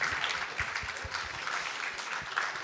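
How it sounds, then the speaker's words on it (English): Audience clapping after a talk event, moderately faint and somewhat distant, a steady patter of hands that holds through the moment without voices. "Give Keith another big hand."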